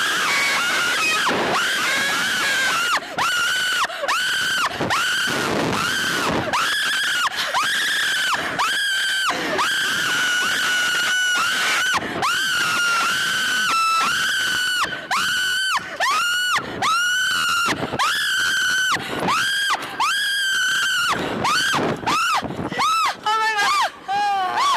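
Girls screaming nonstop on a roller coaster ride, loud, shrill and close, with repeated rising and falling shrieks over steady wind rush, captured on a hidden camera.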